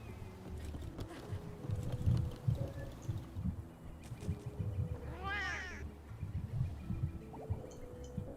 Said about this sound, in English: Hey Gizmo, when these cats are talking, you know what they're saying?